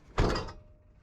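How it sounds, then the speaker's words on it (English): One solid thunk of a car's passenger door shutting close by, followed by a brief fading rattle. "close the passenger door"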